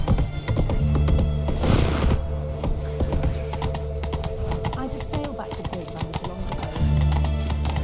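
Horse hooves clip-clop steadily in The Witcher 3: Wild Hunt, a brisk rhythmic trot with a brief whinny, loud and close, while someone talks over the game sounds.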